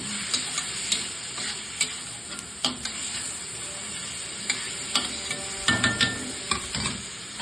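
Onion, tomato and eggplant cooking in a pan, with a steady low sizzle and occasional soft spoon scrapes and taps against the pan throughout, no voices.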